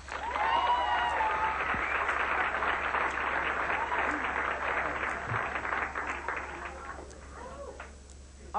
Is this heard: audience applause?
yes